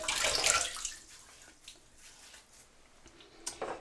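Water splashing and running at a sink as a face is wetted before a wet shave, a loud burst at the start that eases into a softer trickle and ends with a few closer splashes.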